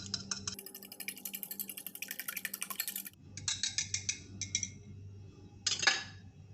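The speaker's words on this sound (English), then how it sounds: "just whip your egg" An egg is whisked for Nigerian chin chin dough, rapid close clicking and tapping of a whisk against a bowl in quick rhythmic bursts, separated by short pauses.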